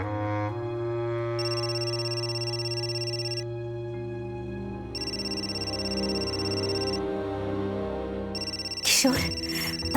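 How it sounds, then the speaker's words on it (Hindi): A telephone rings in a home in repeated bursts of a bright electronic ring with short pauses between, moderately loud, followed by a sudden clatter at the end. "ताई का फोन है।"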